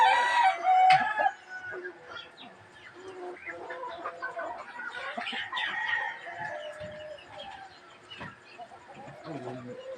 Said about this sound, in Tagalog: magpapainom na lang tayo guys ng manok guys.